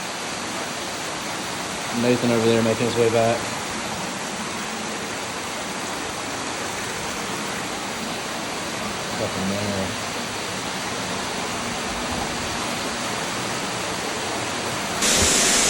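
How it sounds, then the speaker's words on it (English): Steady roar of a waterfall inside a river cave, a continuous broadband wash filling the whole stretch, with brief voices speaking over it. "We're still making our way back to the waterfall."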